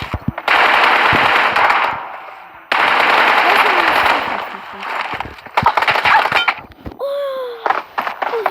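Gunfire from a pistol in a shooting video game, heard as two long stretches of loud, rapid, continuous shots, then scattered sharper bursts and a few brief tonal sounds near the end.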